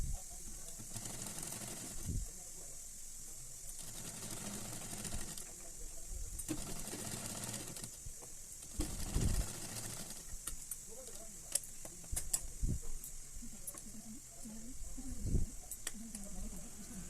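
A sewing machine runs in short bursts while stitching Nero pant fabric, a quiet mechanical whirr that starts and stops, with someone speaking in between.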